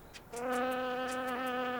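An Ammophila wasp, a solitary digger wasp of loose sandy ground, gives a sustained close-up buzz that swells in after a quiet start and holds a steady droning pitch with slight wavering.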